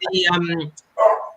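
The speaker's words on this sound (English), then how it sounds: "You have to excuse my dog, by the way." A dog barks nearby in a home during an interview, one short harmonic bark followed by a brief gap and a second gruffer bark, loud and close.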